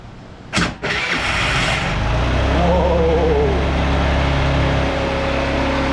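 A worn VIP scooter engine under repair cranks briefly, catches, and settles into a loud, close, steady high idle with a constant drone and a faint whine.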